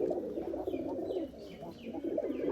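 Pigeons cooing inside a loft on a Rajshahi farm keeping Giribaz and racer birds, a steady layered murmur of low coos close by with a few faint higher chirps.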